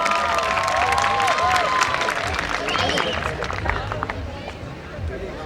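An audience at a Diwali Mela university event applauds a children's performance, a dense wash of clapping and crowd noise with voices in the mix, fading slightly toward the end.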